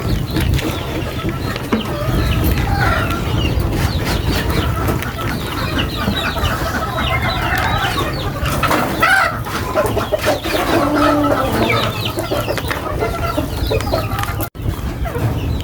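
Pet chickens cluck continuously and loudly up close, with overlapping calls from several birds over a steady background.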